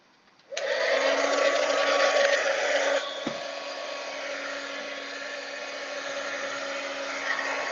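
A heat gun switches on and blows steadily while warming a shrink plastic keychain, a loud close whooshing hum with a whine that drops slightly in pitch partway through, no talking.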